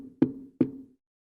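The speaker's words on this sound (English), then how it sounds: "Oh, someone's at the door." Two firm knocks on a door, about 0.4 s apart, close and distinct in an otherwise quiet room.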